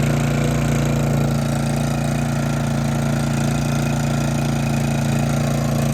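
Honda 2K portable generator running steadily under an air conditioner load, a loud, close, continuous engine drone with a low throbbing hum that stays even throughout, no voices.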